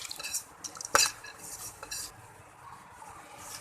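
Dal mash is stirred in a pot of boiling water, giving faint scraping and clinking of a spoon against the pot, with one sharper metallic knock near the start. The sounds are close but quiet, and no one speaks.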